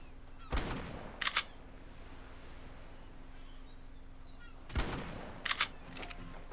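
Two distant-sounding gunshot bursts in the ARK: Path to Ascension game, each a sharp crack followed by a pair of quick mechanical clicks, spaced about four seconds apart over a low steady hum.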